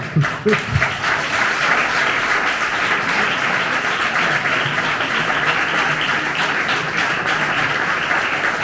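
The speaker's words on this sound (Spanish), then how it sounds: "Muchas gracias por esos aplausos." A crowd applauds steadily at a book presentation, a dense wash of clapping from many hands that holds at an even level throughout, with no voices standing out.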